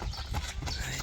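A young horse, a dark colt for sale in Kerben, Aksy district, clip-clops with a quick run of hoofbeats over a rough outdoor background, nearby and steady, with no one speaking.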